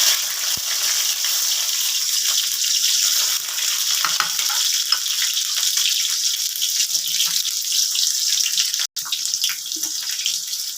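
Garlic and onion frying in hot oil in a pan for a tomato and potato mash, with a loud, steady sizzle and crackle that holds throughout.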